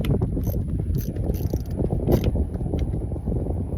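A ratchet clicks in quick, uneven bursts as it tightens the negative battery terminal on an older truck, close up over steady outdoor wind and rumble.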